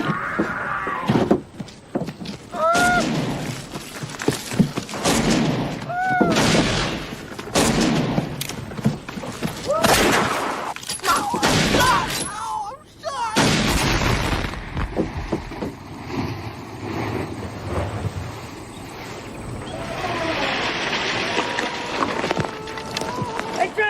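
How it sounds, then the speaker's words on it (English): Gunfire and a dynamite blast ring out in a western movie scene, with loud sharp bangs and booms scattered through the scene amid shouting voices. "Take the goddamn dynamite and go help Harvey"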